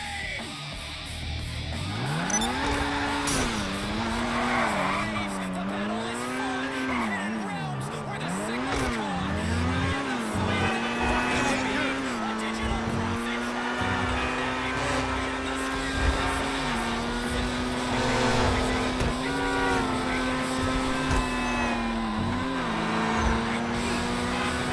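A Turismo sports car in GTA revs and drives, its engine note climbing and dropping through gear changes with bursts of tire squeal, loud and close, while someone talks over it.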